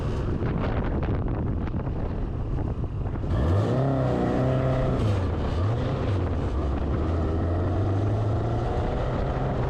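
An old car fitted with Microsquirt EFI launching on an autocross run, its engine revving up sharply, shifting, then bogging at lower revs, heard close over heavy wind buffeting the microphone.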